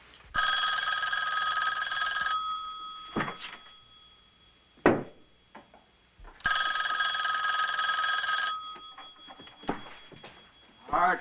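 An old-style telephone bell rings in two long bursts with a pause between them, loud and close, with knocks and short sounds of movement in the gaps.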